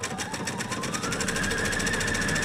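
Sewing machine stitching through felt, a rapid steady mechanical whir with even needle pulses running throughout, close and fairly loud with no talking.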